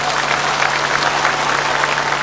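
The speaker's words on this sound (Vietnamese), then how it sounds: "Xin cảm ơn Thùy Trang, xin quý vị cho một tràng pháo tay" Steady, loud applause from an audience at a talk show held at a Buddhist temple, continuous clapping with no pause throughout.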